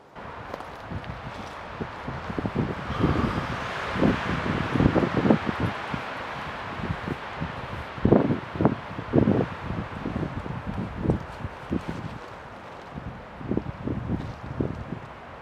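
High wind gusts roar broadly across a tarp campsite, with rustling and scattered footstep-like thumps close by, and the wind swells and eases throughout.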